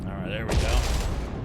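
Ship's guns firing in the co-op game Jump Ship, a short dense burst of booming shots, close and loud, with voices talking over it.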